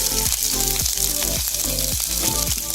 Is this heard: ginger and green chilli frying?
yes